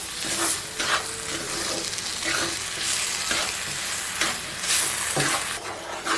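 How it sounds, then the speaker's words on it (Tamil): Sugar melting into ginger juice in a pan over a low flame for homemade ginger candy, giving a steady soft sizzle with scattered stirring scrapes throughout. "ஜீன் எல்லாமே கரைஞ்சிட்டு இருக்குது பாருங்கள்"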